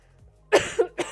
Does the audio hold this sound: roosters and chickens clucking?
no